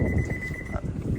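A faint, steady electronic warning beep from a 2023 Honda Pilot power tailgate, a single held tone that cuts off and then starts again over low background rumble.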